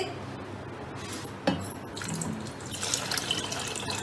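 Water pours into a cooking pot holding soaked tamarind and dried plums for a summer sharbat, a faint metallic clink followed by a soft, rising splashy rush of liquid.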